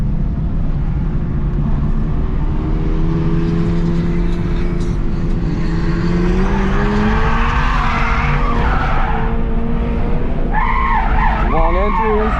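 A 2022 Subaru BRZ sliding sideways on a race track, its tires squealing and skidding in long wavering howls over a loud, straining engine, with someone talking throughout.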